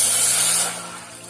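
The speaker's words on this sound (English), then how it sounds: "add water" Water poured into a heated pan to cook rice ada for Kerala ada pradhaman sends up a loud, close hissing sizzle that fades quickly into a softer steady hiss.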